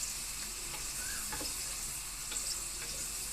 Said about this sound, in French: vous mettez le feu à fond. Et vous mélangez comme ça.